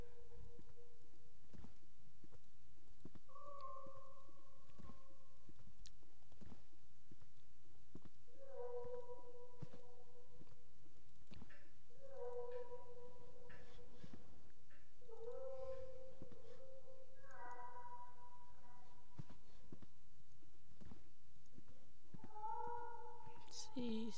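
A cat in the video game The Last Door meows repeatedly, giving long, wavering, tonal cries spaced across a quiet background with faint clicks.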